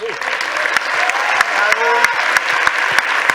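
An audience claps steadily at a round-table conference session, a dense patter of applause with sharper individual claps standing out, while a voice talks over it.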